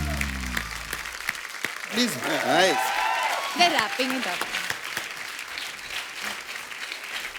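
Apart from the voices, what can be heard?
audience applause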